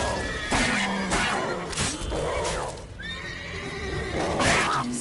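Roach the horse from The Witcher 3 neighs in several loud whinnies over about five seconds, with hooves clopping and a scuffle of crashing sounds around it.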